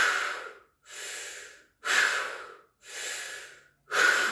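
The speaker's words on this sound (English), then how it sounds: "feel your tummy muscles really pushing that breath out" Forceful yoga breathing: five strong, rhythmic exhalations, each pushed out sharply from the belly and tapering off, separated by short near-silent gaps, close and clear with no talk.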